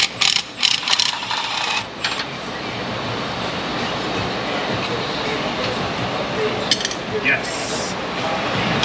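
Ratchet loosening exhaust manifold bolts on a Dodge Ram 1500 with the 5.7 Hemi, a few quick clicks near the start over a steady broadband rush, with faint talk around it.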